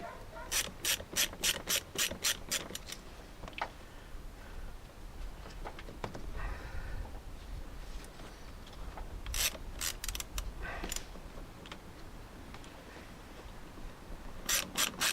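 A fitting on a Land Rover Discovery 2 MAF sensor is tightened with a ratchet, giving quiet, rapid ratcheting clicks in short runs at the start, middle and end, with soft rubbing handling noise between.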